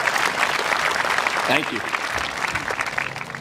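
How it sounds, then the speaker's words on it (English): A dense wash of applause from a high school graduation crowd holds steady throughout, with a brief spoken thanks heard under it. "So round of applause for those of you."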